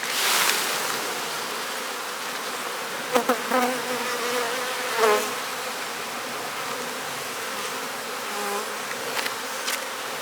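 A dense, continuous hum of many honeybees buzzing close by, with occasional louder individual bees passing near.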